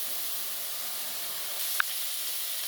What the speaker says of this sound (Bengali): পেঁয়াজগুলো আমার খুব ভালোভাবে ভাজা হয়ে গেছে